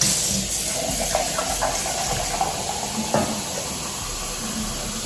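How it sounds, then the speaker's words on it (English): Tap water running steadily into a bowl at a kitchen sink, a continuous hissing flow with faint splashing throughout, close and alone with no talk. "I'm just gonna get some water."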